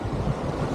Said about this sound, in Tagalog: Tubig pala yun na humahampas at tumitirapon sa kabila